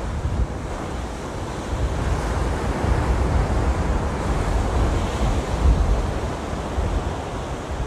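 Sea waves crash on the shore at Kanyakumari in strong wind, a loud and steady roar of surf mixed with wind buffeting the microphone, with no talking.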